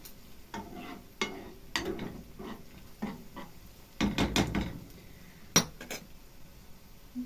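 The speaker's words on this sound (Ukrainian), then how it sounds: "Привичка обстукувати ложкою" A spoon clinks and taps against a pot of frying onions in a series of quick knocks, with soft stirring and faint sizzling underneath. Close and fairly quiet, no voices.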